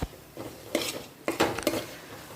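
Okra pieces tossed into a pan with chili-spiced paste, a few sharp metallic scrapes and clatters of a spoon stirring against the pan, with only a faint sizzle beneath.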